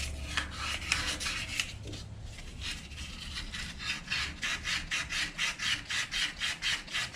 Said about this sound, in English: Just making sure all the burrs and stuff are off this thing,